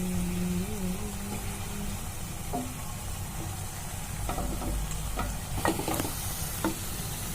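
Paneer tikka pieces fry over a medium flame in a pan, giving a steady sizzle while a utensil stirs and scrapes with occasional clinks and scuffs, close and moderately loud throughout.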